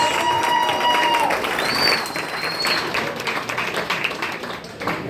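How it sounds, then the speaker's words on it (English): An audience at a hypnosis show breaks into lively clapping and some cheering, dense applause close by that slowly thins out over a few seconds, with faint whistling tones above it. "give these folks a nice big round of applause"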